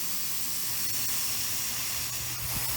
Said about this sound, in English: hit it with a nice travel iron.